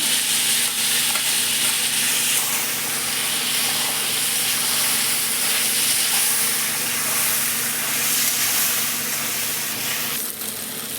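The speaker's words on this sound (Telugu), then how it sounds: "మిక్సీ పట్టుకున్నాం కదా పేస్ట్ వేసుకునేస్తాము" Ground spice paste sizzling with chicken in a hot pan for chicken curry, a continuous loud hiss and crackle with stirring and steam, no voices.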